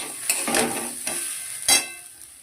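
Dalia fries in a pan with turmeric and salt, a close bright sizzle broken by several quick scraping stirs of a utensil over a short stretch.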